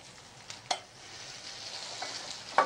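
Spinach cooks in a pan with a soft, steady hiss, punctuated by a couple of light clicks and taps.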